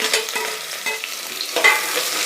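Sliced onions sautéing in a hot pan for tomato bath, with a continuous close sizzle and frying crackle broken by scraping stirs.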